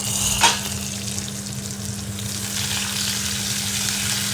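Small tender ivy gourds fry in a pan with a continuous, even sizzle and one brief sharp crackle near the start, heard up close over a low steady hum.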